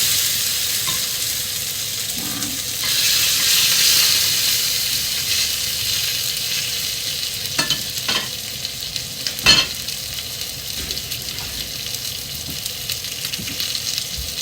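A hamburger patty sizzles steadily in a pan wiped to cut the grease, a continuous frying hiss with a few sharp crackles and pops, loud and close throughout.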